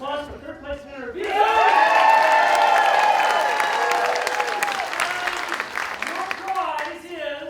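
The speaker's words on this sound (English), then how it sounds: "Big round of applause for third place winner." Theatre audience breaking into a big round of applause for a third-place winner at a live improv show, loud sustained clapping with some cheering that swells then fades as a host's voice returns.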